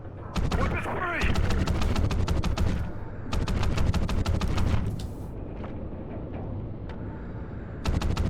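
Call of Duty: Ghosts firefight with rapid automatic gunfire in long, loud bursts, the rattles stopping and restarting several times with short gaps between them.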